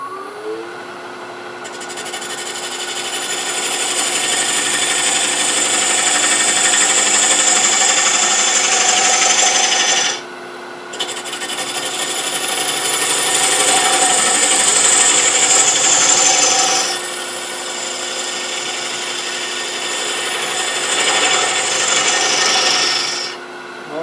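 Tool cutting a box elder hollow form on a wood lathe produces a loud, continuous scraping whine in three long passes separated by short pauses.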